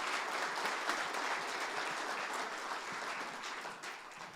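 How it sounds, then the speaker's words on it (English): Applause from an audience at a culinary presentation, steady and moderately distant, fading slightly toward the end. "A round of applause"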